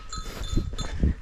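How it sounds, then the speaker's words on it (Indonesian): Cattle sounds near a hot, humid Rinjani mountain trail, a few short low grunting or lowing calls with faint bell-like tones over quiet outdoor ambience. "Ada sapi."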